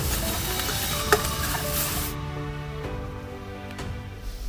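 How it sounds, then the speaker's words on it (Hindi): Food fries in a pan for a parwal curry while it is stirred, making a loud, steady sizzle with occasional scraping stirs up close, cooked outdoors on a camper van trip, with no talking. "इसको ना थोड़ा फ्राई करके निकाल देते हैं तभी अच्छा लगेगा"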